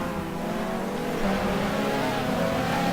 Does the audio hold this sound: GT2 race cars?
yes